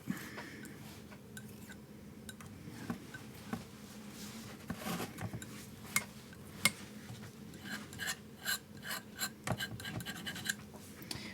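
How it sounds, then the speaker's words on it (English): A palette knife scrapes acrylic paint across a canvas in soft, quiet, uneven strokes, with faint scratchy textures and a few small taps and no talking. "pressing a little bit at an angle as I scrape"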